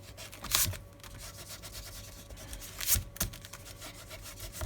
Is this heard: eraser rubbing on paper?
yes